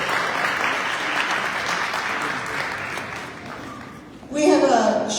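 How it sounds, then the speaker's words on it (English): Audience applause fills a banquet hall at an interfaith Ramadan iftar dinner, a steady sustained clapping for the kitchen staff that carries on for several seconds before a voice starts speaking over its tail. "Everybody please applaud for Cromery's kitchen staff."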